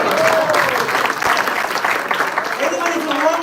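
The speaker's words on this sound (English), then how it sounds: "Applause for him also." An audience applauding at an evening devotional celebration, a dense sustained burst of clapping from a crowd, with a voice speaking over it.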